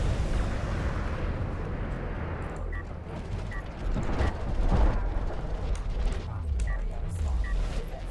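Artillery barrages in a real-time strategy match keep exploding in dense, rumbling bursts, with several louder blasts stacking up near the middle and a commentator talking continuously over them.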